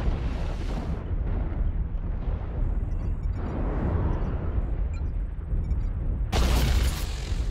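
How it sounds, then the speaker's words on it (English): Artillery strike explosions in the video game MechWarrior Online roll out as deep, sustained rumbling booms, with a sharp, brighter blast near the end, loud and close with no voices. "Artillery strike online."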